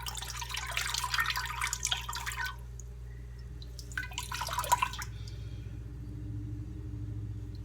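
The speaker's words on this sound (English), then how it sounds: "I'm going to just squeeze the water out gently." Water squeezed by hand from a ball of acid-dyed Lopi wool yarn, splashing and dripping in two bursts with a quiet pause between them, close by and moderately loud.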